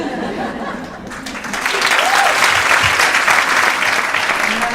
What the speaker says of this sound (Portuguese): Um aplauso aos homens que estão aqui, que não são muitos na plateia.